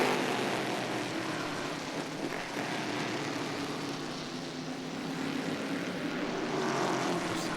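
Stock Car race cars from the 2006 season (Mitsubishi, Chevrolet and Volkswagen) accelerate down the S descent at Londrina, a continuous engine roar that swells and eases slightly over several seconds, heard from a distance with no talk.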